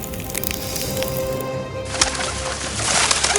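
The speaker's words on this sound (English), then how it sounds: "And let the lifeless birds in the palace become alive." Bird calls and wings stir to life in a palace for a fairy-tale sound effect, rising from a dense, busy background into a louder burst of fluttering and chirping in the second half.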